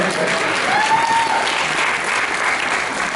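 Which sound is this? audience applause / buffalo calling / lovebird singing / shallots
audience applause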